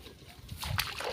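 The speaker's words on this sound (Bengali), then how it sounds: "আমি এখানে পাটা ধুয়ে নিই" Feet being washed in rainwater pooled on flooded village ground give a brief, soft burst of close splashing and sloshing, quiet and over within about a second.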